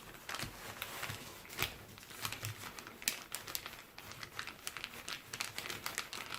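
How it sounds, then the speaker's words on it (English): Thick, messy material being folded in half by hand, giving a close run of crinkling, crumpling rustles with sharp irregular crackles and no voices. "Fold it in half again, make it a little more solid."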